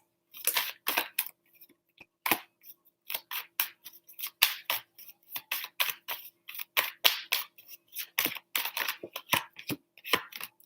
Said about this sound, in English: I'm just shuffling some cards for us